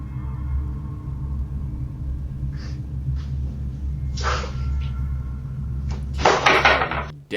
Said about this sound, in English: we can hear strange noises coming from the doors